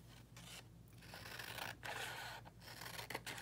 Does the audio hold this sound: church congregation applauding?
no